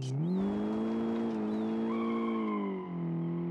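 Drift car engine in the BeamNG driving game on the winding Deals Gap mountain road, a steady loud drone that climbs in pitch as the car revs, with a faint tire squeal, and no talking.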